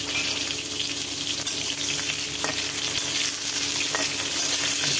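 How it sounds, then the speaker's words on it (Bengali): Eggplant pieces frying in hot oil for shukto, a dense, steady crackling sizzle throughout with an occasional faint clink, close and even in loudness. "বেগুনটা ভাজা হচ্ছে"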